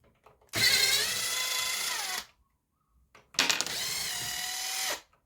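A chainsaw handle's bolts being driven out with an 8mm socket on a power driver: two close, loud whirring bursts of about one and a half to two and a half seconds each, separated by a short silent pause.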